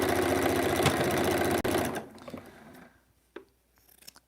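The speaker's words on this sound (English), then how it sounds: "I was going to start trimming things, but I'm still sewing." A sewing machine stitches quilt pieces for an improv log cabin quilt, running in a fast, steady close whir for about two seconds before slowing and stopping, followed by faint handling noises and a soft thump.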